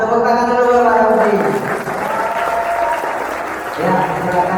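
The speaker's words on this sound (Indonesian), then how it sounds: "Tepuk tangan dulu buat Pak Rafi." Applause for a teacher fills a junior high school hall at an Isra Mi'raj gathering: dense, sustained clapping from a large crowd, with voices cheering and calling out over it throughout.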